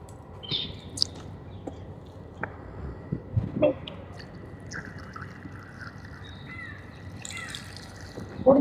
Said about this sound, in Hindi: चल भाई कौवा आ रहा